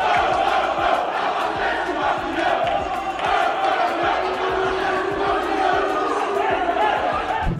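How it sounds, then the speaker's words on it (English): Criciúma football fans chant together in a stadium, a dense, steady crowd roar with rhythmic sung voices that hold loud throughout. "some Criciúma fans started a sickening chant, singing "Fuel up the airplane,""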